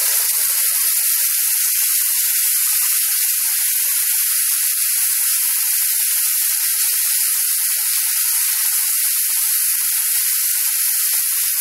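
Steady, loud sizzling of a tomato, ginger, garlic and green chilli paste frying in a hot pan, a continuous bright hiss with no talking.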